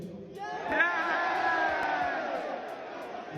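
A live wrestling crowd cheers and roars loudly and steadily for a few seconds, a dense mass of voices with whoops rising through it.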